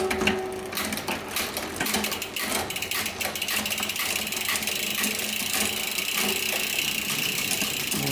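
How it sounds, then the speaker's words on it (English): A SRAM Eagle NX 12-speed drivetrain with a new GX chain runs on a bike stand, a steady close whirring of chain and cassette broken by repeated sharp shifting clicks and clunks. "here's the shifting on the bike stand with the new GX chain"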